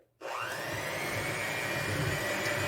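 A handheld electric mixer creaming butter and sugar for a red velvet cake switches on abruptly and then runs at a steady, moderately loud whine with a grinding edge.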